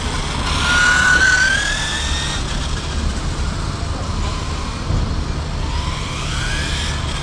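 A Kyosho Datsun 240Z 1971 rally RC car with a small brushed motor drives past, its thin electric whine rising and falling in pitch over a steady rushing outdoor noise.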